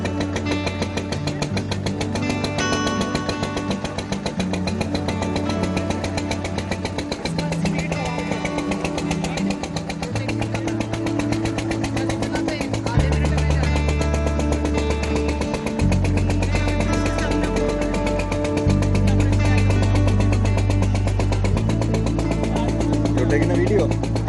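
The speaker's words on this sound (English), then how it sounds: "Why is this engine going like this?" A medium engine powering a rain gun runs steadily and nearby for over twenty seconds, its rhythmic low chugging shifting in tone in several stages.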